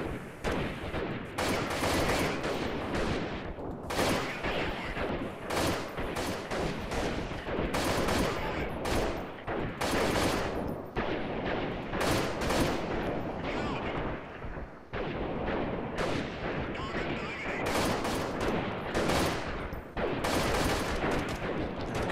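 Dense gunfire and artillery-like blasts from the video game Freeman: Guerrilla Warfare, a continuous barrage of overlapping shots and booms, fairly loud and steady throughout, with a voice speaking at times beneath it.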